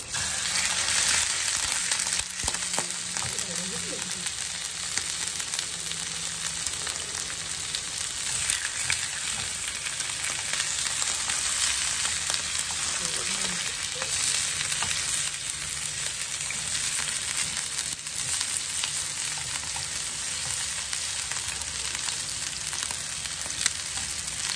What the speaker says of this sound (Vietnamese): Mình chiên bò và con chiên cái lửa cho lớn nha